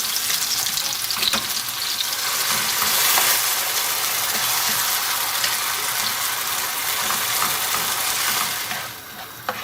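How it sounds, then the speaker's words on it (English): A pepper, onion and garlic mix sizzles loudly in a hot pan while being stirred, a dense continuous frying crackle with scraping strokes, easing off slightly near the end. "To that, I'm going to add the pepper and the onion and the garlic mix. We're going to give that a good stir."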